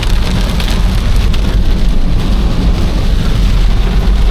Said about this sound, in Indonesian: ternyata hujan deras